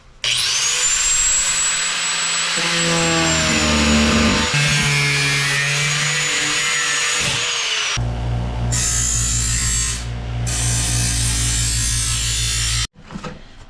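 A drill bores holes through a Street Scene rollpan on a 2008–2010 Ford Super Duty truck, running loud and steady with rising and falling pitch in several long passes, close up, with no voices.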